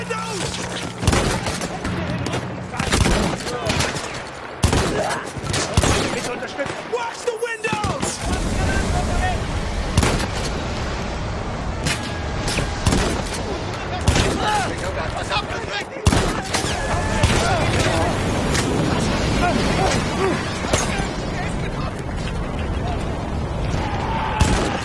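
Battlefield 1 gameplay with bursts of shotgun blasts and other gunfire cracking sharply and repeatedly over a constant wash of wind, water and battle noise, with someone talking at times amid the shooting.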